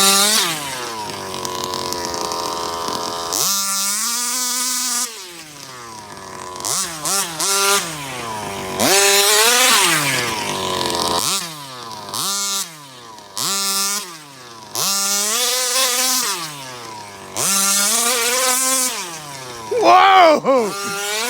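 A Rovan RC car with a 34cc gas engine revs hard and loud, its buzzing two-stroke note rising and falling in repeated throttle bursts with brief dips between them, close by and dominating throughout.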